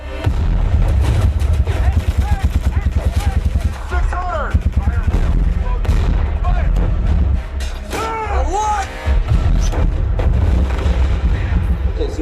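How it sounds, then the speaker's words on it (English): Tank battle scene from the movie Fury, with tanks crossing a big field under anti-tank gun fire: heavy rapid volleys and deep booms in a dense barrage, with shouting voices mixed in. "here's a scene from the movie Fury, where they're driving the tanks across a big field and being shot at with anti-tank guns"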